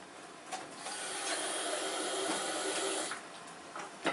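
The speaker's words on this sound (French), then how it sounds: "Donc là j'ai rajouté encore pour 25 centilitres d'eau" Water poured into a simmering pot of traditional beef bourguignon gives a steady hissing, rushing pour for about three seconds, then settles to a soft bubbling simmer.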